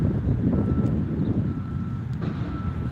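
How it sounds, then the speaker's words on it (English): Steady low rumble of wind buffeting a microphone, continuous and loud throughout, with no voices. "sorry about the wind"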